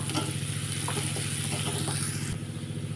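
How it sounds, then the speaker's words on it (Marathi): Onions frying in a pan until lightly golden for a puffed-rice snack, a dense continuous sizzle with faint stirring clicks, close and steady throughout without any voices. "कांद्याला पण थोडंसं सोनेरी हलकसं सोनेरी रंग येईपर्यंत परतून घेऊ आपण"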